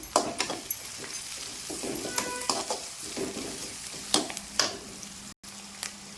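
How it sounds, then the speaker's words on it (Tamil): Onion and garlic sautéing in a pan with green chillies for a Tamil broad bean curry, a steady soft sizzle with frequent close scraping stirs and clinks of a spoon against the pan. "பூண்டு போட்டு வதக்கிறேன்"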